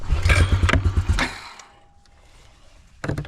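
Abandoned Honda Rancher ATV that sat for six years, cranked with the choke on: a loud, rough burst of starter cranking and sputtering for about a second and a half, a quieter near-silent stretch, then a short renewed crank at the end.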